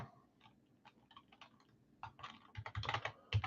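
Computer keyboard typing during a live sports card break, scattered soft key taps that build into a denser, louder run of clicks near the end, close and with no voices.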